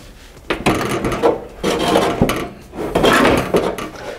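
Metal hood of a Massey Ferguson MF35 tractor being tipped forward and lifted off makes close, loud scraping, rubbing and clunking bursts in quick succession.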